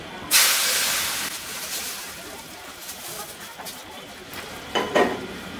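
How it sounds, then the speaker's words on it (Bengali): Spice tempering (baghar) poured into a simmering fish curry gives a sudden loud sizzling hiss that fades to a steady crackle, then flares again briefly near the end. "এর মধ্যে আমার এই বাগারটাকে এখন দিয়ে দিতে হবে"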